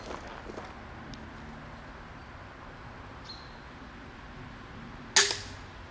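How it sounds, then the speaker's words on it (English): A waxed crossbow bolt is shot into a target, making one sharp, loud impact crack near the end after several seconds of quiet background. "now I'm shooting the waxed bolt"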